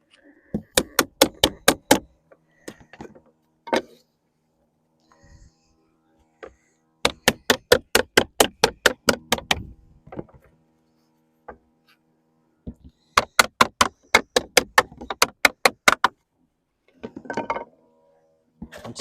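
Repeated hammer knocks on a metal tag being bent round to fit a lead bay in roofing leadwork, coming in three quick rhythmic bursts of sharp close taps with a few isolated strikes between.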